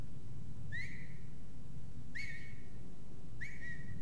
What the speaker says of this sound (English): I like how we're whistling at him.